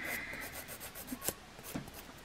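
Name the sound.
nail file filing the edges of nails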